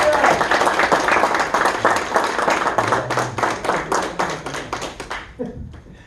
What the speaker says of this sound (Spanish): ¿cuántos le pueden dar una fuerte aplauso para el Señor Jesús?